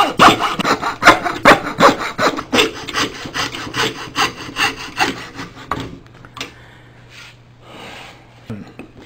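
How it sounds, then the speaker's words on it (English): A coping saw cutting a wooden love spoon blank makes rapid, rhythmic rasping strokes, close and loud for several seconds, then stops and leaves a few faint scrapes and a low hum. "With a coping saw, you can cut the pattern out."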